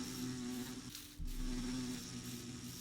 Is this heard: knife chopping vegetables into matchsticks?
no